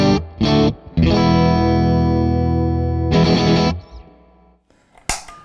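A Fender Stratocaster plays a clean electric guitar tone: two short plucked notes, then a long sustained chord ringing for about two seconds, a final strummed chord fading out, and a small click at the end.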